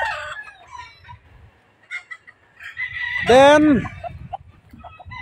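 Hens cluck in a farm pen, with scattered soft clucks and then a loud, close rooster crow rising in the middle, while someone speaks briefly over the birds.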